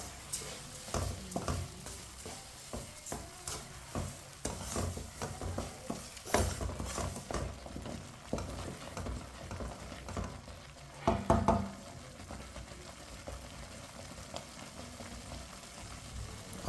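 Semolina, sugar and oil being stirred together in a pan for suji halwa, giving a steady scraping and mixing sound with irregular louder strokes and soft sizzling underneath, close by and with no talking.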